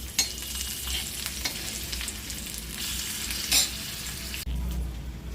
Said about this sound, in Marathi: पूर्ण भाजून घ्यायच्या मिरच्या, मस्त खाताना लागतात।